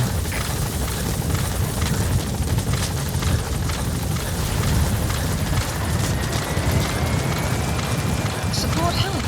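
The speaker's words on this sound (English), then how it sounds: "Support helicopter has arrived." A support helicopter arriving in Metal Gear Solid V: The Phantom Pain, with a loud, steady rotor roar and engine rumble that stays close and constant throughout.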